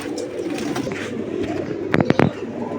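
Giribaz high-flyer pigeons cooing up close, soft low coos throughout with a cluster of louder flutters or calls near the end, no talking.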